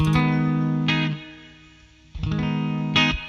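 A guitar played through a Joyo Atmosphere reverb pedal on its plate setting rings out in sustained chords, each decaying in a lush tail before the next strike, with no voice.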